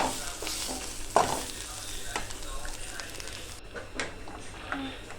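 A spoon stirs bitter gourd fry in a hot pan, scraping and tossing the pieces over a soft continuous sizzle, with a few sharper knocks against the pan.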